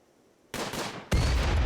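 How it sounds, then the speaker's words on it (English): RimWorld colonists open fire with guns: a sudden dense burst of rapid shots, then a louder, heavier volley that roars on continuously. "they need to start firing on the hare"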